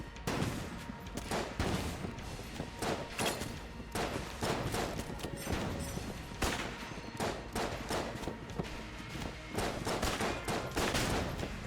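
The Potshot gun in Enter the Gungeon fires in a steady stream of quick popping shots, densely layered with other gunfire and game effects, moderately loud throughout with no pauses.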